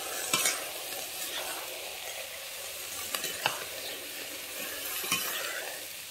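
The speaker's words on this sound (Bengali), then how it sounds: "এবারে আমি দিয়ে দিচ্ছি কেটে রাখা বাঁধাকপিটা। আমি একটু নেড়ে নিচ্ছি।" Chopped cabbage is stirred into frying spice paste for a hilsa-head curry, with a soft steady sizzle and a few sharp spatula scrapes and taps against the pan, close and fairly quiet.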